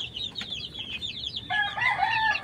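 A gray yellow-legged fighting rooster and its chicks. Rapid high chirps and clucks run throughout, with a louder, denser burst of chick peeping toward the end, all close and with no talking.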